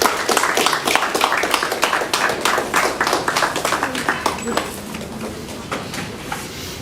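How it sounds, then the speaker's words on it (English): An audience at a talk on music contracts claps in a quick, even rhythm as a speaker is welcomed to the stage. The clapping is loud at first and thins out as a voice begins talking over it. "A round of applause, please."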